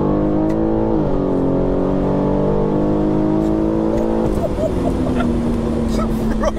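A stage 2 tuned 700 bhp BMW G80 M3 accelerates hard in fourth gear, a loud, droning engine note climbing in pitch, dropping briefly at a shift, then climbing again, heard from inside the car.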